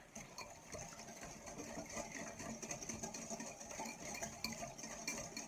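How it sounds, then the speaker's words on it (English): A whisk stirs brown sugar into a lower-sodium sauce in a bowl, giving a faint, continuous scraping and clinking with no talking. "let's whisk that up in there with our whisk here"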